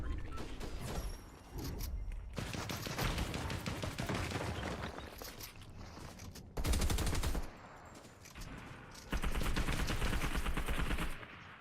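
Video game gunfire: bursts of rapid automatic shots in several loud stretches separated by brief pauses, close and dense.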